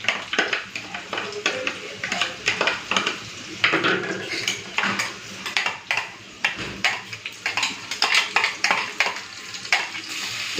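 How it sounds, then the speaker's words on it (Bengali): Spices are fried with browned potatoes in a pan, a loud continuous sizzle broken by frequent rhythmic scrapes and clanks of a spatula stirring the pan, close up, with some talk underneath. "ওই আলুর সাথেই এবারে মশলাটা দিয়ে ভেজে নেব"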